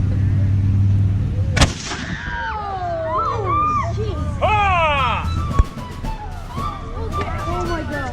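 Civil War reenactment cannon fires one loud, sharp boom that echoes out, followed by a second, smaller report, with people talking and shouting around it in an open field.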